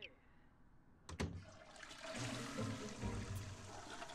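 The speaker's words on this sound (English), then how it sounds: "Flush." A toilet flushes in The Sims 4. After a brief click, a rushing swirl of water rises and carries on steadily to the end, with a voice talking faintly beneath it.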